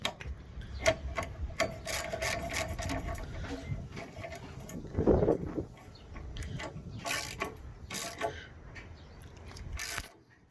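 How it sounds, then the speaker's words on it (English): A ratchet clicks in quick rapid runs while fuel tank parts are bolted into a Nissan S13. Metallic clatters and a brief louder clunk come through a close, busy workshop with no talk. "So yeah, bolt these in now."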